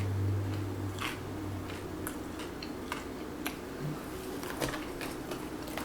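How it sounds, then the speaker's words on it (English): Crunchy bites into a crispy, burnt-bottomed pizza slice with charred edges, heard as scattered sharp crackling snaps close to the mic over a low steady hum. "Hear that crunch?"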